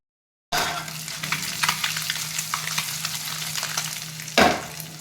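Fish fries and sizzles in a pan with a little oil, a steady close hiss with scraping as it is stirred and turned, and a louder scrape near the end.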